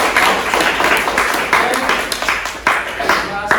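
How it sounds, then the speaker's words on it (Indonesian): A class of students claps during a school practice lesson, with scattered bursts of clapping mixed in with talking voices throughout. "Kasih tepuk tangan."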